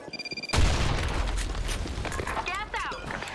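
A grenade goes off in the shooter game Blackshot with a sudden heavy boom that rolls into a rumbling blast lasting several seconds, with short electronic game chirps near the end.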